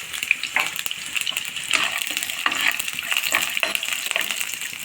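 Peanuts and green chilies frying in a pan for sabudana khichdi, a crackling sizzle broken by repeated stirring scrapes and small pops, close and fairly loud, with no talking.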